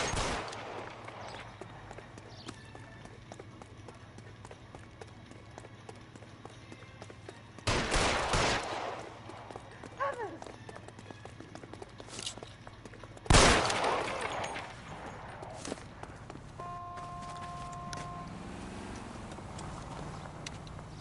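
Gunshots ring out in the L.A. Noire police game during a foot chase, with two loud, sharp bursts spaced several seconds apart over a busy background of street noise and horse hooves.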